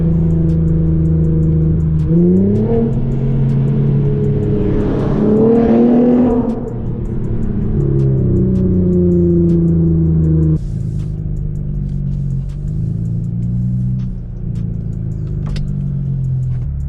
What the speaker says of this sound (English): My dad's enjoying his exhaust a little too much. I hear him revving it back there.